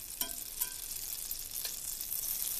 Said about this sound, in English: We get some butter, and we're going to put that in the pan. You'll hear it start to sizzle.